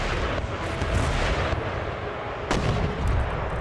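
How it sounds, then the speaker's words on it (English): Foot artillery in Empire Total War fires in a steady, dense barrage of booming reports, with heavy low rumbles that overlap and roll on through the whole stretch. A sharper, louder burst lands near the end. "Foot artillery engage the armed citizenry."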